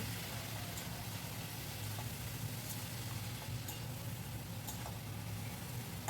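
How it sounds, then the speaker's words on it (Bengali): A spice paste is stirred and fried with long beans and potatoes in a pan, giving a steady soft sizzle with faint scraping stirs throughout. "ভালোভাবে নাড়াচাড়া করে আমি মশলাটাকে কিছুক্ষণ কষিয়ে নিলাম"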